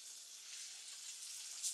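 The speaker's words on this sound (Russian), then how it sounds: "кабачки имеют такую весьма непристойную привычку плеваться, когда жарится. То есть масло плюется." Sliced zucchini fries in spitting oil in a pan, a steady close bright sizzle with faint crackle throughout and a small pop near the end.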